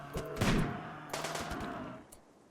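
Colonists trading gunfire in RimWorld, several quick shot bursts at moderate volume, a louder cluster early and a second volley after a short gap.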